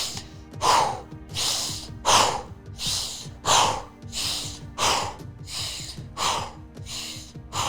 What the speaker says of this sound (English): So in through the nose, out through the mouth, or in through the mouth, out through the mouth, and as big as you can.